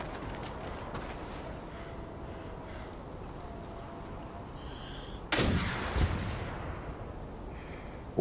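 An RPG-7 rocket launcher fires once in the Stay Out online shooter game, a sudden loud blast with a rumbling tail that stands out over steady outdoor background noise.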